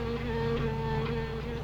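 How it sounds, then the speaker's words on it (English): Wasps hum with a steady, continuous buzz, close and even in loudness, with no speech over them. "Wasp, you better be careful. They can sting a man to death."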